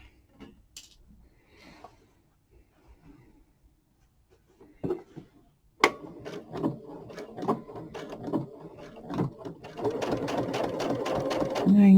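A sewing machine stitches a snowman wall hanging, starting with a few short bursts and then running in a steady, close, rapid whir that gets louder toward the end, with a person talking between stitches.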